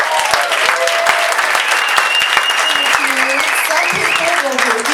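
Comedy club audience at the Addison Improv bursts into sustained applause, dense steady clapping with scattered cheers and a few voices in the crowd, loud and close throughout.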